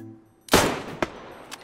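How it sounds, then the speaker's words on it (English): A gas canister explodes in winter cold in the video game DayZ, a single loud, sharp blast followed by a couple of fainter bangs, with no talk. "Oh my god, he just blew up!"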